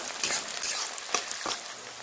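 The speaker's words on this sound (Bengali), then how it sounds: "এবার দিয়ে দিচ্ছি পেঁয়াজ, আদা আর রসুন, এগুলোও একটু ফ্রাই করে নেব।" Onion, ginger and garlic fry in hot oil with bay leaf and dried chilli, giving a close, steady sizzle broken by a few crackling spits.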